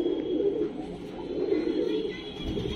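Pigeons of fancy breeds such as jeera and kala bhaura coo in a low, steady murmur through the whole stretch, close by and continuous, with a faint voice now and then.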